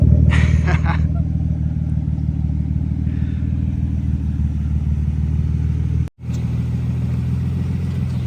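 A Nissan R33 Skyline with a forged engine runs at a steady idle close by. A short rattle and brief voices come early, and the sound drops out for a moment near the end.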